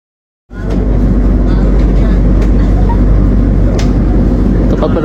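The Argo Semeru train departs from track 4 at Solo Balapan station, a loud, continuous low rumble that starts suddenly and holds steady throughout.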